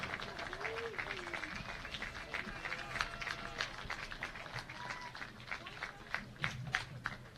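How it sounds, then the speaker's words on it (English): A crowd of fans in the stands of a Division III college football game, Hope at Trine, applauds from a distance, a faint, steady patter of scattered claps with a few sharper peaks. "they're given the applause that they rightly deserve by this Trine Thunder contingent here in the stands"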